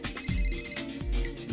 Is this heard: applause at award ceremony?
no